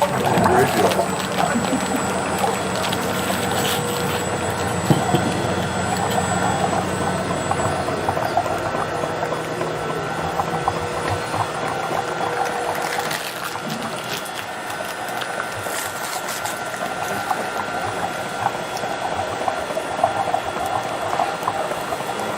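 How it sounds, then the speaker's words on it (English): The dasher of an ice cream maker churns pumpkin cheesecake ice cream, a continuous rattling mechanical drone that stays fairly loud and even throughout. "We're going to start the dasher, get it turned on."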